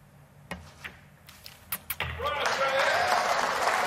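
Crowd applause at a 9-ball pool match at the World Cup of Pool breaks out after a few sharp knocks, swelling into steady, sustained clapping that fills the room.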